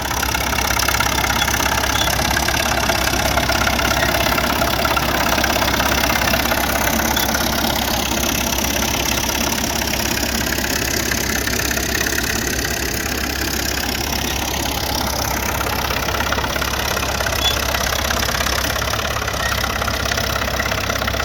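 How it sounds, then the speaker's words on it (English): A Caterpillar tractor hauls two 4-bottom trailing plows uphill through Palouse farmland with a continuous heavy, rumbling engine drone. The drone stays steady and fairly loud throughout, with no talking. "here comes a big boy. It's a Caterpillar. I'm not sure which particular model it is, and he's pulling two 4-bottom trailing plows."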